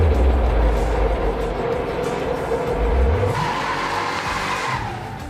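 A 1969 Pontiac GTO Ram Air 4 convertible drives past, its engine a loud, steady drone with a low rumble that rises and falls, running throughout without talk.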